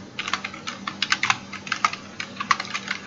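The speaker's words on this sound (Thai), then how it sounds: "พิมพ์คำว่า ng นะครับ" Rapid, irregular keystrokes on a computer keyboard while someone codes an Angular loop, close and fairly quiet, with a steady pattern of light clicks and no voices.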